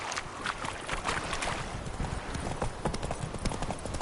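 Roach, a horse in The Witcher 3, trots with close, rapid clip-clop hoofbeats in a steady rhythm, over a soft outdoor ambience.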